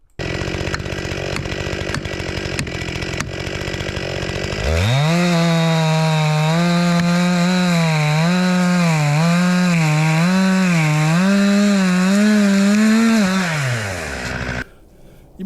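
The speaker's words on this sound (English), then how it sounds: "We use two chainsaws, a Stihl 261, it's an MS 261, and a Stihl MS 462." A Stihl chainsaw, either an MS 261 or an MS 462, cuts a log at a sawmill. Quieter idling and revving comes first, then a loud, steady bucking whine with a slightly wavering pitch that runs about nine seconds before dropping away.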